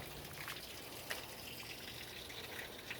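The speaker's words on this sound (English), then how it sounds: "imagine 35 minutes of water pouring out of that hole." Rainwater drains out of a boat's plug hole in a faint, steady trickle with a few small splashes and drips close by.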